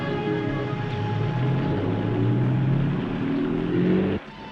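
A car pulls away in the rain, its engine droning steadily and rising slightly in pitch as it accelerates, alone and close, before cutting off abruptly.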